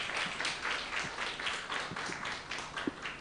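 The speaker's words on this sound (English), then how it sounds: "start the day with a huge round of applause" A large audience at a startup founders' portfolio day event claps in a huge round of applause, a steady dense patter of many hands held at an even, moderate level throughout.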